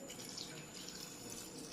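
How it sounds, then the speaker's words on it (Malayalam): Water is poured from a glass into a bowl, a faint steady trickling splash with no talk. "വെള്ളം ഒഴിച്ചു."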